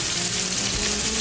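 Vegetables for an oxtail stew, namely celery, parsley and garlic, sizzle in a hot pot with a dense, steady crackle, close and alone.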